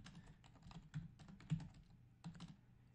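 Someone types a command on a computer keyboard, a quick run of soft, close key clicks with a few louder taps and brief pauses, with no talking.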